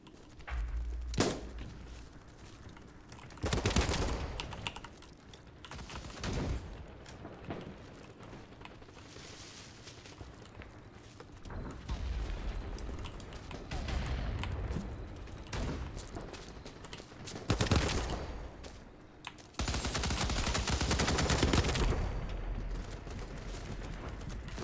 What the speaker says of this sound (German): Schon wieder die Sniper-Schüsse.